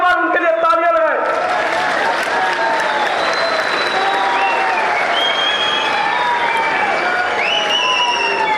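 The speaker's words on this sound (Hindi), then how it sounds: "एक बार उनके लिए तालियां लगाएं।" A standing audience at a political rally in Jammu and Kashmir applauds for Union Minister Nitin Gadkari, bursting into sustained, loud, dense clapping with crowd noise and voices over it. A brief stretch of talk over a PA comes just before.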